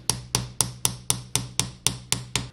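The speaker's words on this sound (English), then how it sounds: "With the hammer." A hammer taps a giant surprise egg in a steady rhythm, about ten sharp, close knocks spaced evenly a quarter second apart, each with a short ringing decay and no talking.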